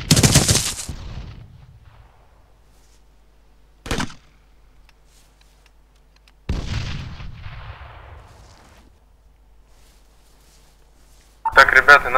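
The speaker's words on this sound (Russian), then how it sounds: "Стреляю с ГП." ARMA 3 grenade launcher shot followed by sharp bursts of gunfire and rolling explosions, loud and close, separated by quiet gaps, with radio-style chatter among players.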